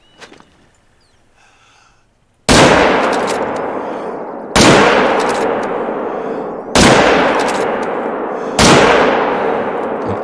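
Four heavy rifle shots at bison in theHunter: Call of the Wild, each a loud sharp crack trailing into a long rolling echo, spaced about two seconds apart after a quiet opening.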